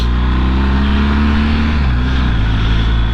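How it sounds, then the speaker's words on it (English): A Honda VFR 1200 motorcycle passes on a group road ride, its engine loud and steady with a pitch drop partway through as it goes by. "There's Wayne on his Honda VFR 1200."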